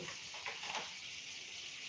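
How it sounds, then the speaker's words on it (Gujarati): Butter melts in a hot pan on a gas flame, making a faint, soft, steady sizzle with a few slightly louder crackles early on. "હવે આપણે બટર આપણું મેલ્ટ થઈ ગયું છે"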